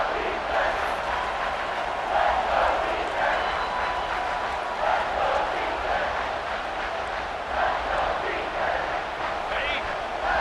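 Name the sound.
stadium crowd noise in College Football 26 video game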